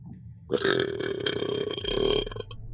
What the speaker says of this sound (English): that belch was ever closer